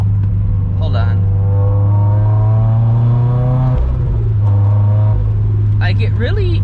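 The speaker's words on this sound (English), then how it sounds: "the wicked road noise is back" Turbo GT86 on sticky Toyo R888R tires driving on a wet road in the rain at around 35 mph, with a loud steady tire and road drone under a humming engine tone that dips and rises with the throttle, heard from inside the car.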